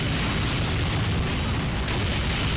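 A bomb exploding in Team Fortress 2, heard as a loud, dense, continuous roaring boom that stays steady throughout, with no talking.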